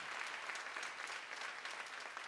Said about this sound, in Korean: 맞으면 박수 쳐보세요